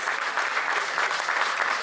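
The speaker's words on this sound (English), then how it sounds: "Please give him a huge round of applause, guys." An audience applauds an award winner at a law faculty valedictory ceremony, a steady, dense wash of many hands clapping that holds evenly loud for the whole stretch.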